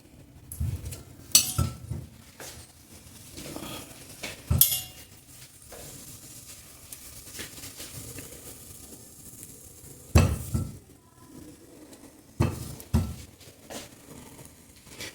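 Intermittent clinks and soft thuds of sweet potato pieces being set into a metal pressure cooker, with quiet scraping between a handful of sharper knocks.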